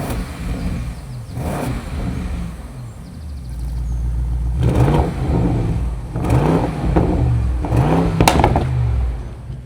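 A tuned 750 hp sports car engine revs in short blips, rising and falling in loud, close bursts over a steady idle, with no talk.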